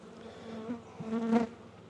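Honey bees buzz steadily at an open hive with a mated queen and brood, a close, continuous drone that swells briefly louder near the end.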